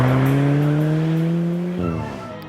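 An Alfa Romeo 4C sports car with a carbon fibre body revs its engine loudly and close by, a rising drone that drops as it shifts, no voices over it.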